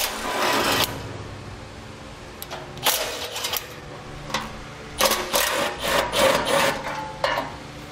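A ratchet and short extension work 12 millimeter bolts out of a 2014 Toyota while a Curt front mount trailer hitch receiver is fitted, giving bursts of quick metallic ratcheting clicks separated by quiet pauses, close up.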